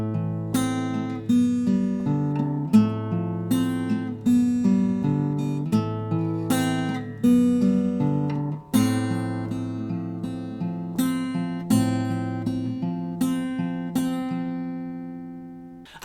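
Acoustic guitar fingerpicking the pre-chorus pattern of a song, a steady flowing arpeggio of ringing plucked notes over sustained bass, played alone, close and clear.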